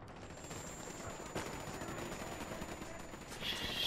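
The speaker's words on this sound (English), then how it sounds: "Oh, mortar, mortar." Mortar fire in Ghost Recon Wildlands: one faint, distant boom lands midway through a quiet, hissy game soundscape.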